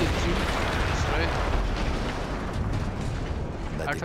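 Artillery gun explosion in the World War I shooter Battlefield 1, a dense, loud rumbling blast that fills the whole stretch and slowly trails off, with a voice talking over it.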